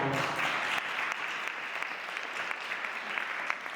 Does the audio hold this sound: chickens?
no